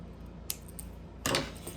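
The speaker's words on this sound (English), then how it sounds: "I'm gonna cut off the ends now that the super glue is dry." Scissors snipping the ends of a beaded wraparound bracelet cord, a couple of quick faint clicks followed by a sharper double cut, in a quiet room.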